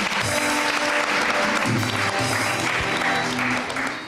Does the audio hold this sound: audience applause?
yes